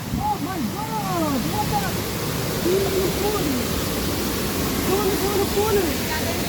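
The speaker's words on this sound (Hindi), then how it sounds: "देख पारते झरना" A waterfall at Devkund in a rocky hill area rushes with a steady, even roar. Wavering voice-like tones rise over the constant noise now and then.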